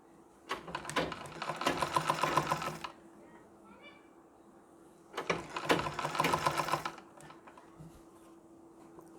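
A sewing machine stitches a Nauvari saree in two loud whirring runs of about two seconds each, with a quiet pause and faint talk between them.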